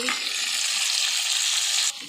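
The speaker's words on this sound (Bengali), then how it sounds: "এই তো বাগুনগুলা কষিয়ে নিচ্ছি, মাছগুলা ভেজে তুলে রাখছি।" Tilapia fish fry in hot oil in a pan with a steady, loud, bright sizzle that holds evenly for about two seconds and then cuts off abruptly.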